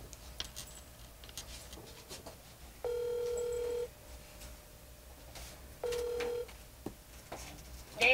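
A phone video call rings with two electronic ringtone bursts of steady stacked tones, the first about a second long and the second shorter, clear and close over a quiet room.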